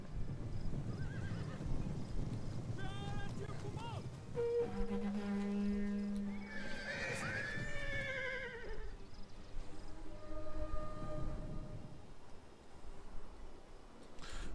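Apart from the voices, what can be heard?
horses of cavalry in the video game Total War: Attila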